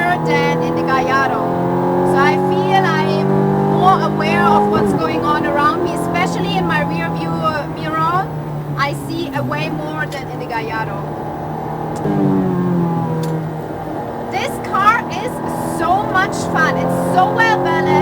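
A loud Ferrari F430 F1 mid-engine sports car drones steadily at speed on a racetrack, its pitch rising and falling through gear changes, while a person talks over the roar throughout.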